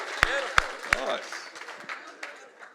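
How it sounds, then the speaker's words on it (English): Three sharp, loud claps ring out close by, and a softer scatter of audience applause and crowd noise follows under a voice talking at a comedy show. "let's give him a round of applause"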